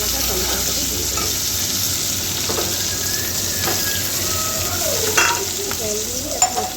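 Fried potatoes sizzle steadily in a pan as ginger paste and tomato go in, with a continuous bubbling hiss broken by a few scraping stirs and light clatter near the end.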